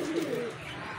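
A pigeon gives a short, low coo up close, followed by quieter ambient noise.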